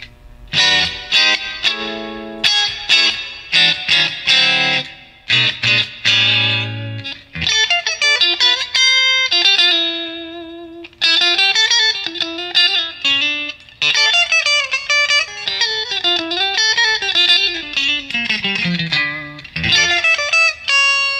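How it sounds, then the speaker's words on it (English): An electric guitar through a 333XL amplifier plays chords and melodic runs soaked in lush reverb, each note ringing out and trailing into a smooth decay. "With the reverb on, you get a better reverb than a spring reverb, just as lush"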